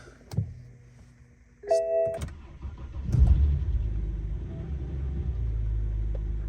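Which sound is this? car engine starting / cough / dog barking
car engine starting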